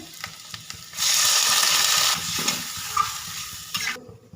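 Water poured into spices frying in a pan for a Bengali rui fish curry with potato and cauliflower, a loud hissing rush for about a second, then settling into steady bubbling sizzle with a few stirring knocks.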